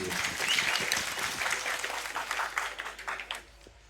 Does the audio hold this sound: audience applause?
yes